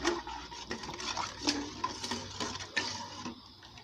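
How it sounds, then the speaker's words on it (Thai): A spoon stirs mala sauce ingredients together in a bowl, giving close, rhythmic scraping and light clinks against the bowl that repeat steadily throughout, no talking. "คนทุกอย่างให้เข้ากันจ้ะ"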